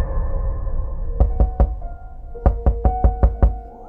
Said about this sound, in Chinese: 清早我被一阵敲门声吵醒